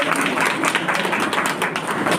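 Applause rises from the crowd welcoming guests at a farewell ceremony for Rampurhat loco pilots, a dense patter of many clapping hands held steadily for a couple of seconds.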